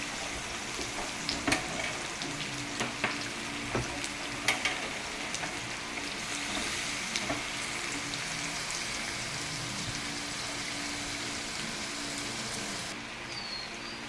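Sliced vegetables (green banana, pointed gourd, potato) and drumstick pieces fry steadily in oil in a pan, a continuous crackling sizzle with a few sharper pops and stirring scrapes early on, fairly close and without any talk.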